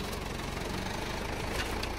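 Case 580B backhoe tractor's engine idling close by, with a loud, steady low rumble and a fast regular knocking pulse that stays constant for the whole stretch.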